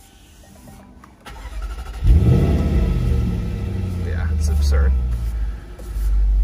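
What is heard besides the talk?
2020 Jaguar F-Pace SVR engine starting and revving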